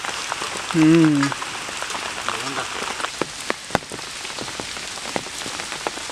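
Rain falls steadily on surfaces in a village setting, a dense patter of close drops with occasional louder splashes, and a voice briefly sounds over it early on.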